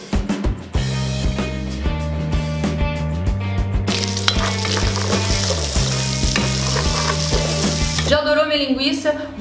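Linguiça sausage browning in a hot pan, a steady loud sizzle and crackle of frying fat with clinks of pan or utensil, under a constant low hum of tonal background music throughout.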